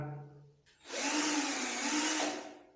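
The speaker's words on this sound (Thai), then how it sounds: "คมสว่านนั้นต้องหมุนไปด้านขวานะครับเพื่อเจาะเนาะ อ่าแล้วก็เจาะ เจาะดูนะครับ" An electric drill bores a hole for a 3 mm bolt while an Electrolux water heater is being installed. After a short quiet lead-in, a loud, steady whirring whine runs for about two seconds and then cuts off.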